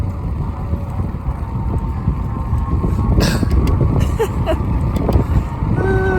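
Strong wind roars across the microphone while riding an Ecotric e-bike outdoors, a loud continuous buffeting rumble with brief higher whooshes and a faint squeal near the end.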